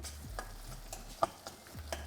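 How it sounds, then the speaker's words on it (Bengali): Onions fry and are stirred in a pan, soft scraping strokes and light clinks of a spatula repeating every fraction of a second over a faint sizzle, close by and quiet, with no talking. "পেঁয়াজটাও কিন্তু এখন বেশ অনেকটাই লাল লাল হয়ে ভাজা হয়ে গেছে"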